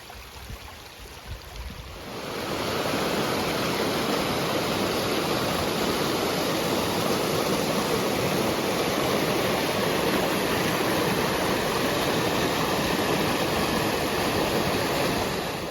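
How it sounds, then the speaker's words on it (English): Running water floods a hiking trail on the Laurel Highlands Hiking Trail near Ohiopyle, Pennsylvania. After a quieter start, a loud, steady rushing roar fills the scene and continues without a break. "It is not only flooded, it is straight running water."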